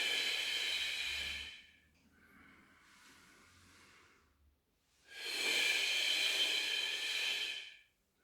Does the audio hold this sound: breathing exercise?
yes